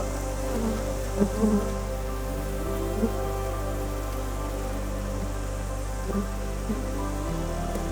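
Honeybees buzz around a manuka honey hive in New Zealand, a continuous layered drone with occasional louder passes close by, no voices.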